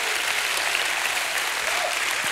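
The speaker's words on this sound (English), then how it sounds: "Give God a hand clap and a shout of praise" A church congregation claps their hands in praise, a steady, dense burst of applause that fills the whole moment without pause.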